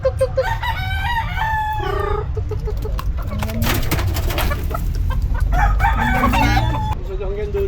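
Roosters crow and cluck at a fighting-cock farm, several loud, close crows overlapping with clucking and other fowl calls over steady barnyard noise.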